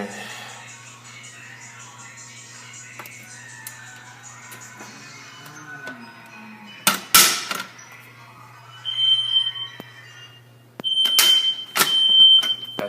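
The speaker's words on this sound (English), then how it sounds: "I'm gonna be doing a fire alarm system test," A home fire alarm system in a walk test sounds short, sharp electronic tones in a few separate bursts near the end, with a steady low hum underneath and a person talking nearby.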